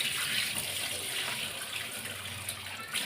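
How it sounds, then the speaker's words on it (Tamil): Water runs from a kitchen tap while lunch is cooked, a steady, fairly soft splashing stream with no talk over it. "கொஞ்சமாக தண்ணி ஊற்றிக்கலாம்"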